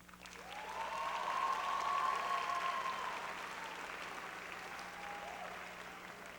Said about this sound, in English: let us honor all of our parents and guardians with a round of applause